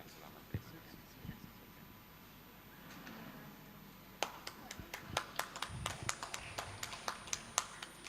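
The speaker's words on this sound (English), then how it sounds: "Once more, we give applause to our Vice Governor." Scattered hand claps from a conference audience honoring the Vice Governor, sparse at first and then a run of sharp, fairly close claps in the latter half, with faint murmuring underneath.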